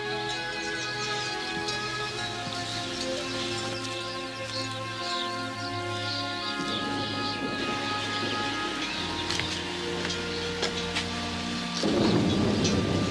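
Steady rain with distant rolling thunder building into a louder rumble near the end, plus a continuous tonal music bed, with no voices.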